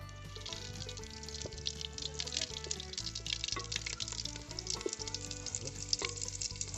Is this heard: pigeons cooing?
no